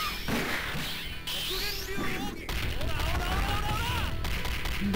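A projectile fired in the fighting game KOF 2002 Plus, with sharp whooshing and smashing hits among layered game effects and music, while a player talks over them.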